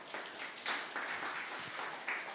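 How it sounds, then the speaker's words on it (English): Applause from an audience at a Catholic community feast gathering, a short, fairly quiet burst of scattered clapping with uneven swells, heard without any speech over it. "Can we give a round of applause?"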